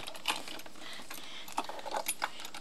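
Metal keys jangle faintly in a few brief bursts of small clinks over a low background hiss, close by and with no talking.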